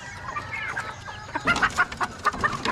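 Chickens on a small farm cluck in quick bursts, sparse at first, then a louder run of close, clipped clucks over quiet outdoor background.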